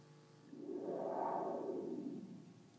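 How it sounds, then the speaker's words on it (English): Built-in spring reverb of a Delta Music Research modular synthesizer (System 1100), a smooth swelling wash of tone that rises and fades over a few seconds, sounding alone and fairly soft. "here's the built-in springline reverb working. It's a fairly subtle effect but worth having."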